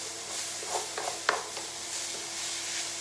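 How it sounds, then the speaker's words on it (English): Chicken korma sauce, thickened with flour, sautés in a pan with a soft steady sizzle and a few stirring scrapes, including one sharper clink near the middle, with no talk. "this is just sauteing off, just fantastic"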